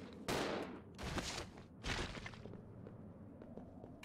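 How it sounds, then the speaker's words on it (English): Three heavy shotgun blasts from the video game Resident Evil Zero, each a sharp loud boom with a long decaying tail, spaced about a second apart, then a quieter fading rumble. "I wanna use this shotgun and be done with it"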